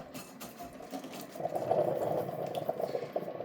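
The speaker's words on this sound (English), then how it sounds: "Our water's cooking now." A pot of water for Buldak black noodles boils on the stove, with a steady bubbling hiss that swells in the middle and stays at a moderate, close level throughout.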